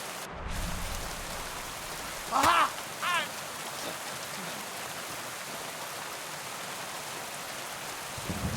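Steady rain falls in the medieval video game Kingdom Come: Deliverance II, a constant soft hiss throughout with a few brief louder knocks and chirpy bursts breaking through.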